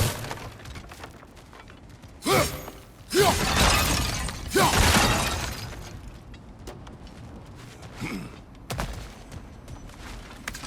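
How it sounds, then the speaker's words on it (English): Objects smashed in the video game God of War Ragnarök: several sharp breaking crashes burst out in quick succession, with scattered debris clatters and smaller knocks in between. "back to smashing through things for fun and profit"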